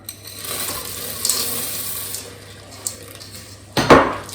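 A spoon stirs chocolate into cookie dough in a bowl, giving soft scraping with light clinks, followed by a sharp, louder clatter near the end.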